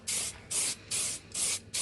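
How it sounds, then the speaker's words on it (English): BMW black sapphire metallic paint hisses from a spray can in five short, even bursts with brief gaps, close and loud, sweeping over a car's rear diffuser. "I'm now going to start on the BMW's black saffron metallic spray paint."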